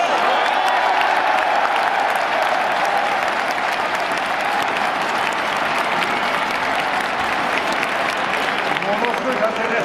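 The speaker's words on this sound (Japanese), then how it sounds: "ものすごい歓声です。" A large stadium crowd at a World Baseball Classic game for Japan's national team roars and applauds continuously, loud, dense cheering and clapping filling the whole stretch without a break.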